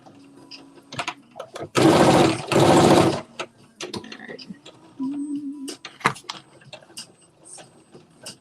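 A home sewing machine runs in two short bursts, stitching straight across from dot to dot with a back stitch on a Simplicity Mimi G. Styles S9463 garment, with quiet clicks and a little talk around the stitching.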